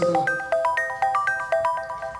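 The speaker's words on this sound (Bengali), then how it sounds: "কিরে কে ফোন করছে" A mobile phone ringtone plays a quick, bright repeating melody of electronic notes, close and clear, with no voices.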